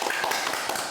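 A Buddhist temple audience gives a short burst of clapping, a quick moderate patter of hands that lasts under a second.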